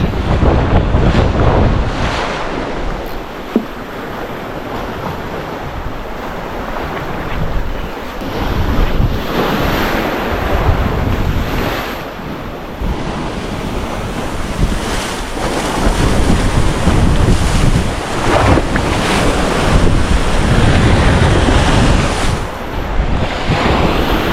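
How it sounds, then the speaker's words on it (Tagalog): Heavy surf pounds continuously, waves breaking and rushing one after another with strong wind buffeting the microphone throughout. "Grabe, lakas ng alon guys."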